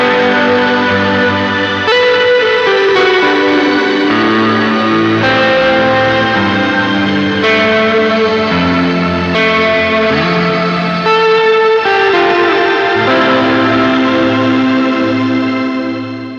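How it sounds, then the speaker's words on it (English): Matthews Effects Traveler multi-mode reverb pedal processing a sustained, layered instrument tone, with chords shifting every couple of seconds under a thick, lingering wash of reverb, loud and continuous with no talking. "The Traveler from Matthews Effects is a multi-mode reverb pedal."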